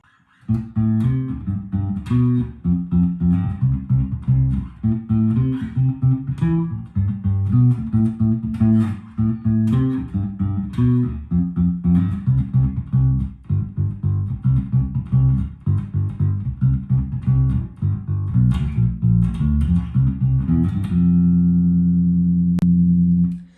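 An electric P-bass with its tone control all the way up plays a bright, punchy riff of plucked notes, ending on a long sustained note.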